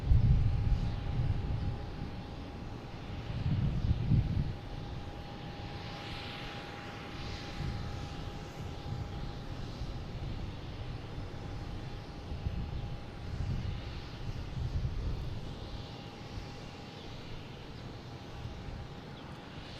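A JetBlue airliner arriving from Fort Myers lands at Boston Logan, its engine roar rising and falling in broad low rumbling swells over a steady distant hum, with no talk throughout.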